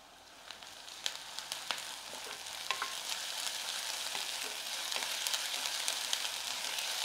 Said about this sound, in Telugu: 2-3 మినిట్స్ నుంచి ఉల్లిపాయ వేగుతుంది చాలు